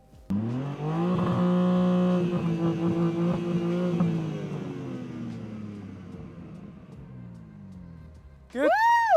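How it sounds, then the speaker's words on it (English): A BMW M3 engine starts and revs in Sport Plus with the valves open, a loud close roar that holds high for a few seconds and slowly falls away to idle, with a voice whooping at the end. "we're going to do a quick sound test because I want to hear this BMW M3"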